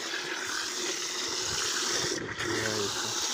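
Water gushes steadily into a bucket being filled with 10 litres for a blueberry feeding solution, a close, continuous rushing fill heard alone.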